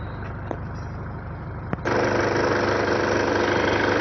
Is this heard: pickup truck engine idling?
yes